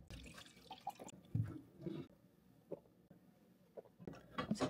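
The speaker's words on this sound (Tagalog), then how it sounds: "Naglalagay ng tubig." Water being added to containers in a home kitchen, heard as faint scattered drips, trickles and small splashes with quiet pauses between, alone and fairly close.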